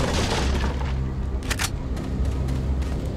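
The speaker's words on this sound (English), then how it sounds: "That's a flash grenade." A flash grenade exploding in Resident Evil 4, a loud low boom with a brief bright burst midway over continuous rumbling game noise.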